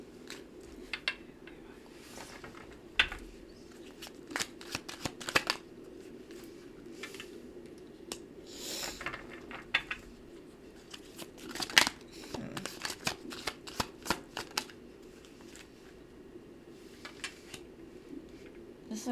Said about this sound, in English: If you don't like the shuffling, you can fast forward a little bit.